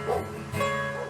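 A dog gives a couple of close, loud bow-wow barks with a whimpering edge, heard alone over about a second.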